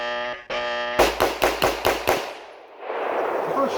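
A steady electronic beep cuts off into a quick string of about six sharp pistol shots at a fighting pistol class in Washington, evenly spaced and loud, trailing into outdoor noise.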